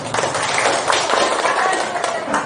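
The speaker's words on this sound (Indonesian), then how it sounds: "Oke, tepuk tangan kita." Young pupils in a primary school numeracy class clap their hands after a song, a quick, steady patter of many hands at close range, with voices mixed in.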